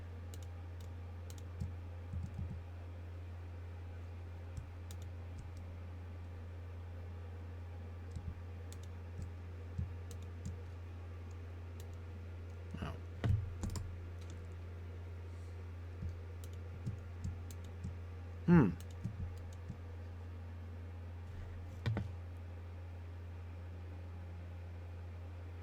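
Sparse mouse clicks and keyboard taps while playing a computer game, faint and scattered over a steady low electrical hum, a few sharper clicks standing out near the middle.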